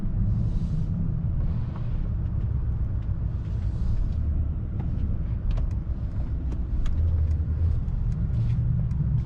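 A Mercedes-AMG S63 V8 hybrid sedan cruises at city speed, its engine a steady low rumble heard from inside the cabin, with faint ticks and light road noise.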